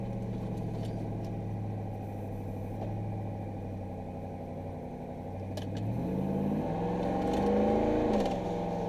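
A truck's engine drones steadily while driving, its turbo compressor surging constantly, then swells louder with a rising, fluttering whoosh toward the end.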